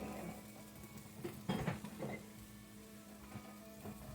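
Bacon and black beans sizzle in a Stargazer cast iron pan, a soft steady crackling hiss with faint scraping and a few light clinks, quiet and close with no talking.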